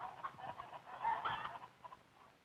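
Laying hens cluck on a modern poultry farm of about 400 birds, a busy, continuous murmur of clucks at moderate volume with no talk.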